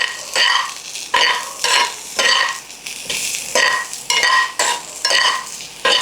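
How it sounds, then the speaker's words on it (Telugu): Ivy gourds and fried green chillies being stirred in a pan, a spoon scraping in regular, rhythmic strokes with a light sizzle underneath, loud and close with no talking. "మొత్తం అన్నీ కలుపుతున్నాను ఒకసారి"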